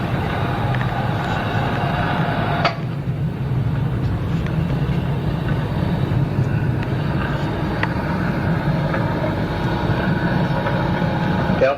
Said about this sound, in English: That's the noise. It's the engine.